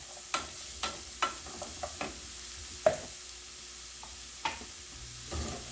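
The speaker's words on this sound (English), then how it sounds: "I'm going to add some onions, maybe about a cup" Onions and a shallot frying in oil in a pan for mushroom risotto, with a soft steady sizzle broken by a series of sharp stirring clacks and scrapes from a spoon.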